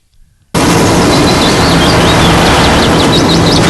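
A loud, sustained burst of gunfire crashes in after a short quiet lead-in and roars on continuously as a dense barrage in a dubbed action film, with faint high chirps flickering above the din.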